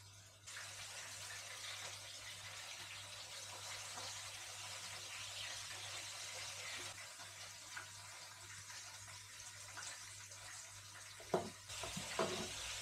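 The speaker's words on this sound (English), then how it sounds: "Just shallow frying tonight, basically, like a little bit more oil than shallow fry" Fish shallow frying in a generous layer of oil gives a steady, dense sizzle throughout, with a few clatters and knocks near the end as pieces are turned over.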